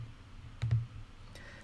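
Two quick computer mouse clicks land close together, then a single click follows, each crisp and quiet, while colours are removed from a palette in a painting program.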